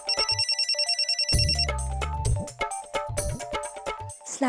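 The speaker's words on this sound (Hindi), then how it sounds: "शबीर मियां को फोन कॉल बैक किया उन्होंने।" A phone rings with a rapid electronic trill for an incoming call-back, then a ringtone melody plays loud and close indoors.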